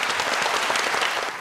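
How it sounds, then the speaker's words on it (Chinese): A studio audience on a game show applauds, a dense, steady burst of clapping that fades slightly at the end. "掌声鼓励"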